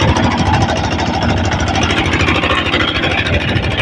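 A boat engine drives a travel boat across the monsoon waters of Tanguar Haor, a loud, steady mechanical drone with a thudding low pulse, continuous and close throughout with no talk.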